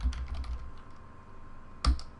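Keys tapped on a computer keyboard while entering a search term on a Windows 10 PC, a cluster of quick clicks at the start, then a pause and one final sharper keystroke near the end.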